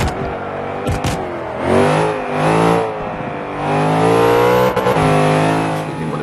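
A tuned race car in Forza 5 drives hard, its engine revving up and down through the gears with rising and falling pitch, loud and close, alone without talk.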